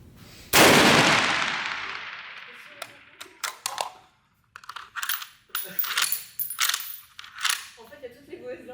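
A Springfield Armory Socom 16 EBR rifle with a suppressor fires a single loud shot of M80 surplus ammunition with 150-grain cupronickel bullets. The report is sharp and close, and its tail rings out before a series of clicks and faint handling noises.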